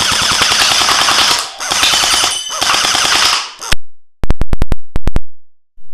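A custom long-barrel HK416C gel ball toy blaster fires a loud, rapid full-auto stream in three bursts, followed by a string of sharp, evenly spaced single shots, close to the listener with no talking.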